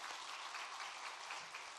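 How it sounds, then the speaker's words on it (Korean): A church congregation claps together in thanks, a dense, even wash of applause that holds steady for a couple of seconds at a moderate distance, with no voices over it. "한 번 더 감사의 박수 한번 하겠습니다"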